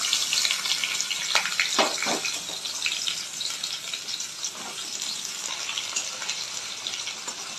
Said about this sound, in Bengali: পেঁয়াজটা দিয়ে দিলাম, কুচনো পেঁয়াজ